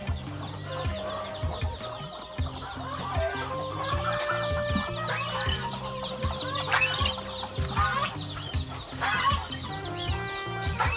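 Busy farmyard noise from ducks, ducklings and chickens in a coop: many birds clucking and chattering at once, a steady dense din with occasional louder calls.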